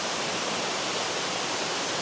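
Somersby Falls waterfall pouring steadily, a dense broadband rush of falling water that stays constant and fairly loud throughout, with no voices.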